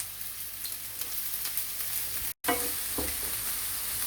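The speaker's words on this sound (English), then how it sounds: "first fry the chopped onion in hot oil" Chopped onion sizzles in hot oil for a mutton curry, a steady soft crackling hiss with a brief dropout and a few stirring scrapes afterward.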